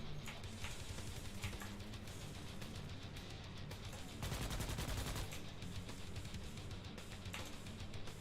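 Continuous rapid gunfire from the bug-shooting video game Starship Troopers: Extermination, a dense crackling barrage that swells louder midway, with no talking.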